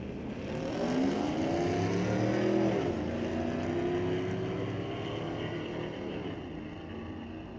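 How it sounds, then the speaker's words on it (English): An old Dodge and a newer Chevy roar down a drag strip at a street-legal Friday night event at Mission Raceway Park, with loud engines revving and rising in pitch, then a shift and a sustained drone fading slightly as they pull away. "An old Dodge racing a newer Chevy."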